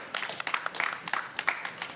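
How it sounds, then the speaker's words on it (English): Brief applause from a small audience at a COP29 morning coffee interview session, scattered claps starting and stopping over two seconds, fairly close and moderately loud with no talk over it. "please, round of applause"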